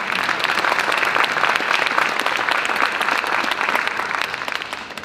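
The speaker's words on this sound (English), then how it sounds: "Let's clap for that again." A full room of conference attendees claps together at an opening event, a steady, dense round of applause lasting several seconds before tapering slightly at the close.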